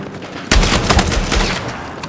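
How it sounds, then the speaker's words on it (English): Shotgun fire in the Battlefield 6 video game, a sudden loud burst of close, booming blasts in quick succession after a brief quiet moment. "Eat this shotgun"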